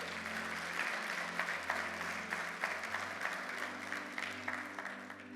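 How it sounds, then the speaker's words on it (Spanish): Congregation clapping for the Lord at an evangelical church service, a fairly faint, steady round of many hands over a sustained low organ or keyboard tone. "¿Cuánto le dan un fuerte aplauso al Señor"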